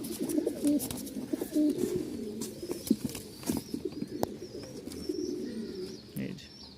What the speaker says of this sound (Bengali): এখানে মোট 4 জোড়া কবুতর যাচ্ছে